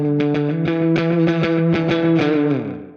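Electric guitar played through a Kemper Arshall amp profile with delay and reverb: a run of bright, sustained picked notes and chords, loud and up close, with echoing repeats trailing off at the end.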